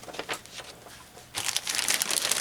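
A large plastic Ziploc bag crinkles and rustles close up during a knitting bag rummage, with soft scattered crackles at first, then a louder, denser burst of crinkling for the final second.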